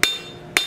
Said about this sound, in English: all we're doing is using the flat of our hammer to take out any of that cross pattern that we had for texturing